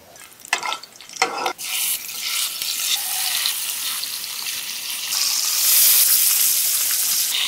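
Turmeric-and-salt-coated koi and taki fish frying in oil in a pan. A few sharp clatters open onto a loud, steady sizzling hiss that swells toward the end.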